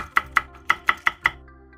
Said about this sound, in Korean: 홍고추 2개도 썰어줍니다.